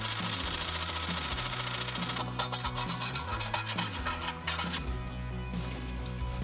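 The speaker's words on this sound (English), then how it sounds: "Step bits are by far the best tool for this job." A step drill bit grinds through a mount hole on a Genesis Coupe, enlarging it for a 1 1/8-inch bushing; a steady rasping whine runs throughout, turning rougher and choppier partway as the bit bites.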